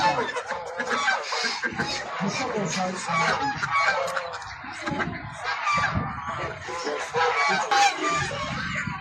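Chickens and roosters crowd a poultry market in Sabunçu, with a loud, overlapping mix of clucks, squawks and honking calls going on without pause close by.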